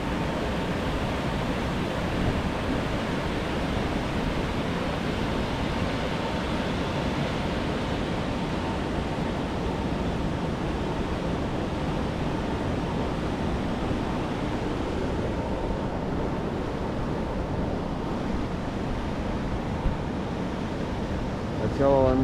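Water pours steadily over a small dam at Užpaliai, making a loud, continuous broadband rush that holds an even level throughout, with no voices over it.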